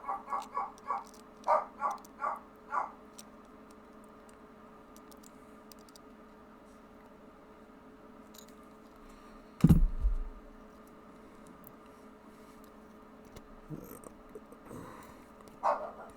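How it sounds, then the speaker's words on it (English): Dogs in a house bark and yelp in the distance, a quick run of barks followed later by a single louder yelp and a few faint calls, under steady background noise. "Sounds like the dogs are going crazy."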